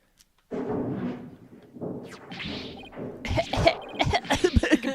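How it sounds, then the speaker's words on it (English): A character in Ace Attorney: Dual Destinies coughs and sputters while crawling through a dusty vent, close and gravelly coughing with hacking bursts and rough throat noises, followed by a cluster of sharp, irregular coughs near the end. "Sputter, sputter, cough,"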